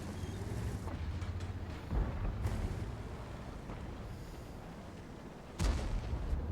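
Leopard tank cannon fire in World of Tanks, a couple of heavy booming shots spaced seconds apart over a low rumbling engine bed, no talking.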